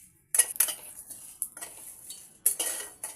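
Puffed rice roasting in a pan, stirred with a metal utensil, gives several sharp scraping and clinking bursts separated by brief quiet gaps.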